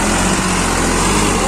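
A steady, loud engine drone from a turbocharged 50 HP New Holland 3600-2 tractor running in second gear runs continuously up close, a rough mechanical hum with no pauses or voices.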